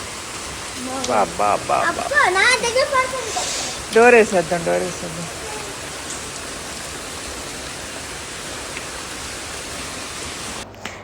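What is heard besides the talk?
rain falling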